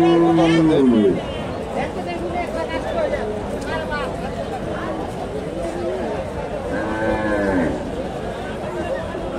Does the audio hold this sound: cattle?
yes